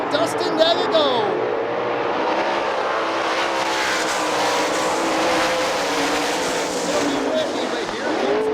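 A pack of sprint cars roars around the Hartford Speedway dirt oval, engines sweeping and revving in a dense, constant wall of sound, while a commentator speaks over the racing.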